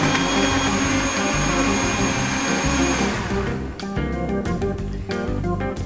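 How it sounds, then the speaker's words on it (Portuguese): A blender runs loudly and steadily, churning a meal-replacement shake with ice. A sustained whirring motor roar fills the whole stretch, and its tone shifts partway through as the contents break up. "E aí nós só basta bater o shake."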